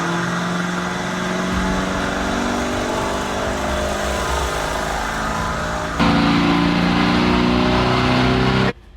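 A Lamborghini Urus running in limp mode revs hard and accelerates, its engine note climbing loud and close through a gear change before cutting off abruptly at the end.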